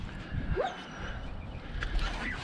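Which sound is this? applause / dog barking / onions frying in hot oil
dog barking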